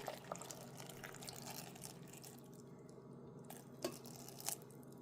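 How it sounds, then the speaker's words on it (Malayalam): Water is poured into a mixer jar holding chopped banana, giving a soft, quiet trickle for the first few seconds, followed by a couple of small knocks and taps. "ഇതിനാവശ്യത്തിന് അരയ്ക്കാനുള്ള വെള്ളം ഞാനിവിടെ ഒഴിക്കുവാണ്"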